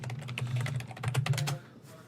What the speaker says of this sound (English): Just typing in My Little Pony.